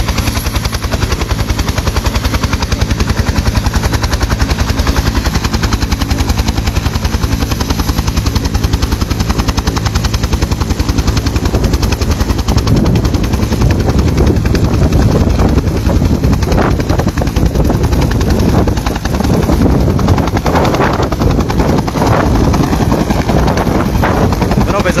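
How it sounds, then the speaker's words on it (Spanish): A second helicopter takes off from a field in the municipality of San Pedro, its rotor thudding loudly and close in a constant roar, with gusts of wind buffeting the microphone throughout. "el segundo helicóptero ha despegado aquí en el campo del municipio de San Pedro."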